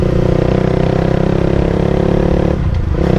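An old carbureted Honda CBR 150R engine runs loud and close with a steady, even throb, briefly dipping in level near the end before resuming.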